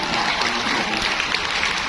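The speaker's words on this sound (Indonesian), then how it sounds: "tepuk tangan dong JSN" Steady, dense applause from a crowd at a charismatic church community gathering, evenly sustained throughout with no voices standing out.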